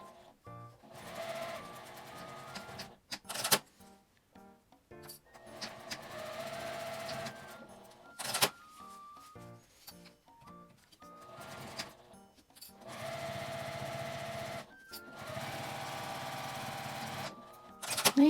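A sewing machine stitches the bottom seam of a mini box pouch's outer fabric, made from scraps, with a 1 cm seam allowance. It runs in several steady bursts separated by brief pauses.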